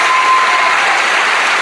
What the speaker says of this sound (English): I'd like another big round of applause for Christos Tsiolkas